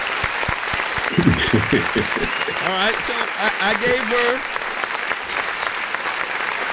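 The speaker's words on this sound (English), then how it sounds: "We're going to give her a clap." Applause from a crowd gathered at a church, with scattered clapping running steadily under someone speaking over it.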